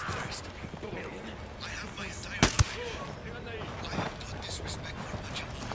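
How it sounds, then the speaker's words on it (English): Gunfire in the Ghost Recon: Wildlands video game: two sharp shots about a second into the stretch, close together, with a softer report later, all over a busy in-game ambience. "Tango heard the gunshot."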